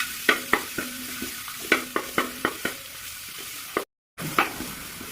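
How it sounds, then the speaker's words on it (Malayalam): Onions sizzle softly in ghee in a pan for chicken biryani. A spoon clacks against the pan in a series of distinct stirring strokes, and the sound stops briefly before resuming. "പിന്നെ കുറച്ച് സവാള, ഇനി ഒരു മൂപ്പിക്കുക"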